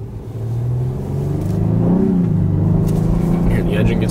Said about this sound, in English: I'm gonna let you hear the car.